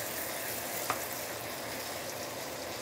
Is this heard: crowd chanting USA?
no